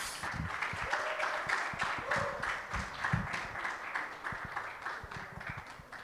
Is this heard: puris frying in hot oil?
no